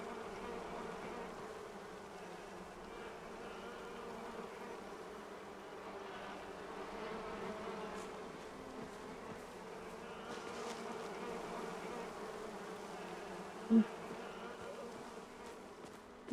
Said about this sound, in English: Bees, I hear bees.